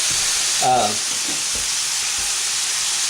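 Steady, loud sizzling of hamburger meat frying in a pan, a constant crackling hiss with a brief tonal squeak near the start.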